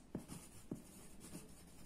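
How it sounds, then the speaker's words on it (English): Writing a heading for a class lesson, with a few soft, close strokes spaced in a slow uneven rhythm over a quiet background. "So we'll write the heading natural"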